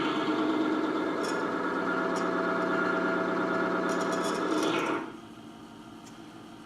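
An HVAC motor runs on a loaded bearing with a steady, dense mechanical hum and rattly vibration, then drops abruptly to a much quieter drone near the end.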